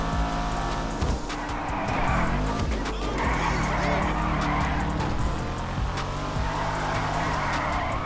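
A racing car in GTA Online roars along with engine drone and sharp tire squeals as it skids, loud and continuous, with brief bursts of screeching over the steady engine noise.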